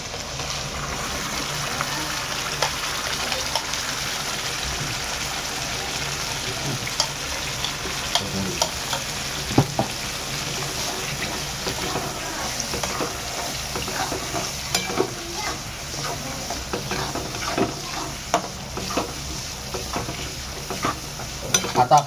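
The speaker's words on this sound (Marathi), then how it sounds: "टाकलेले आहे कांदा काजू आणि टमाट्याची पेस्ट. आणि तिला आणि खरपूस भाजून घेऊ." Onion, cashew and tomato paste roasting in a hot pan, a steady loud sizzle with frequent stirring scrapes and clatters that grow busier toward the end, no talking.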